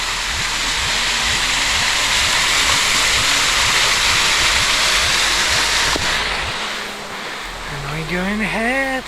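Rushing water from a small mountain stream on Medun in Montenegro makes a steady broadband hiss, joined early by rhythmic clicking and followed near the end by a voice.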